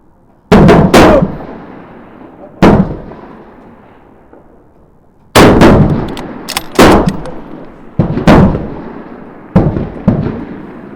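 Bolt action rifle shots fired outdoors at a competition in Thun, six loud sharp cracks spaced a second or more apart, each trailing off in a long rolling echo, with no talk.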